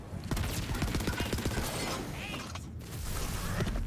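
Rapid gunfire in the shooter game Tiny Tina's Wonderlands, with dense overlapping shots and impacts forming a loud, continuous barrage and a brief dip near the middle.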